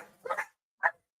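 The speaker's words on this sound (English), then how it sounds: "My puppies. They're interrupting my recordings today." Puppies barking indoors: a quick double yip followed by one short sharp bark, close and fairly loud, with silence between them.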